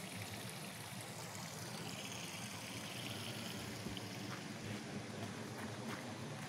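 Water runs steadily from an open tap at a holy spring beside a village, a faint, continuous trickling splash with no breaks.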